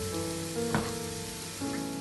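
Sev frying in a pan gives a soft, steady sizzle throughout, with a brief louder crackle near the middle and a slight swell toward the end.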